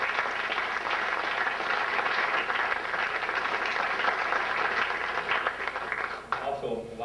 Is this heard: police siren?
no